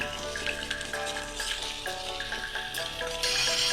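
Fish roe fries in a hot oiled pan, giving a close, continuous crackling sizzle with bursts of spattering and the scrape of stirring, and no voices.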